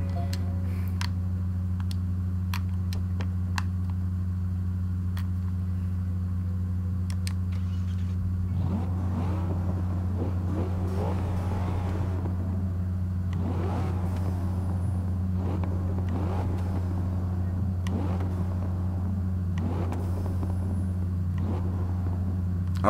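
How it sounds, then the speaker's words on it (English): A car engine in Forza Motorsport 6 idles with a steady low hum, joined partway through by rumbling revs that rise and fall, alongside scattered faint clicks. "you can just sit there and just listen to the engine"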